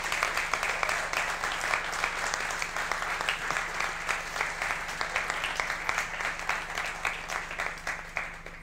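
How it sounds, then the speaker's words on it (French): Sustained audience applause at a business talk event, steady dense clapping from a crowd throughout with no speech over it. "Si vous pouvez l'applaudir, ça me fait trop plaisir."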